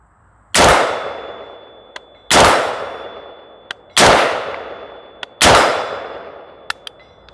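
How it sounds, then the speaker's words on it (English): A Barrett REC7 rifle firing brass ammunition booms four times at steady, roughly 1.7-second intervals, each loud, close shot ringing out, with faint metallic clinks of ejected casings between them. "he's shooting brass for zeroing"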